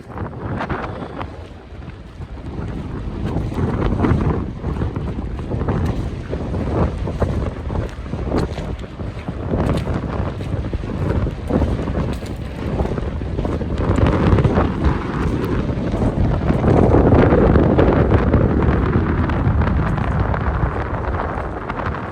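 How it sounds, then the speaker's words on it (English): Strong wind buffets a microphone outdoors in rural Victoria, Australia, a loud continuous roar that surges and swells throughout with no talking. "Turn around so the wind's not blowing for a second so I can talk."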